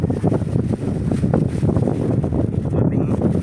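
Strong wind blows outdoors beside a leaning hut, loud gusty buffeting rumbles across the microphone in uneven surges with no talk.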